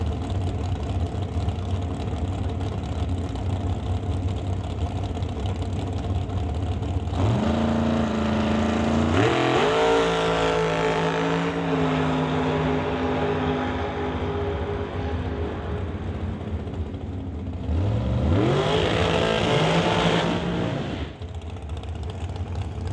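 Drag race car launching at a West Coast Classic eighth-mile event in Mission, BC, engine roaring up through rising gear pulls, then a second loud surge of acceleration later, heard over steady track background.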